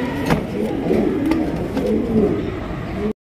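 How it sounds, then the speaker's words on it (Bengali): A pair of Bombai pigeons coo repeatedly in soft, low rolling calls, close by, over a steady background hum. "দর্শক বন্ধুরা এখানে রয়েছে চমৎকার এক জোড়া বোম্বাইয়ের কালেকশন।"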